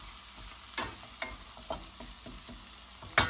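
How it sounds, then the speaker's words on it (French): Oyster mushrooms and vegetables sizzle steadily in a frying pan while being stirred for a mushroom curry, with scattered scrapes and clicks of the utensil against the pan and a louder clack near the end. "tu peux les tasser dans un coin de la poêle pour venir mettre tes pleurotes"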